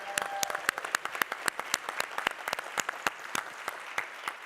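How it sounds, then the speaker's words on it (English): A conference audience gives a hand clap, a steady patter of many hands applauding at moderate distance, fairly soft and even throughout with no voices over it. "can everybody turn to the back and just give a hand clap for Bob Arnold and the DRJ team?"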